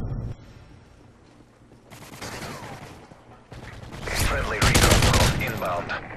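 Gunfire in Modern Warfare 3 multiplayer: a quiet stretch, then bursts of close, loud shots that build toward a dense volley near the end, with some voice underneath.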